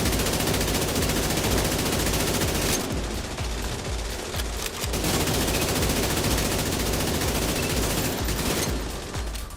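Sustained automatic AK-47 fire in The Division 2 video game rattles in long, rapid bursts, loud and close, with a brief lull midway before the shooting resumes, over steady background music.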